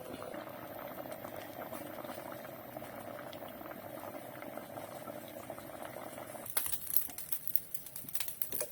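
A pot of lentils and spinach bubbles steadily at a rolling boil, soft continuous burbling close by, with some clattering and crackling toward the end.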